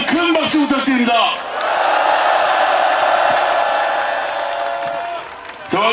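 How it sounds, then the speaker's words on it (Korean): A large crowd at a political rally for Lee Jae-myung bursts into loud, sustained applause with scattered cheers and whoops. A speaker's amplified voice comes before the applause, and the clapping fades near the end. "이재명 대표님께 힘내시라고 다시 한번 큰 박수 부탁드립니다."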